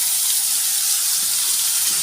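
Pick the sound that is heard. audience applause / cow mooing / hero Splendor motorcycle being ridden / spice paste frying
spice paste frying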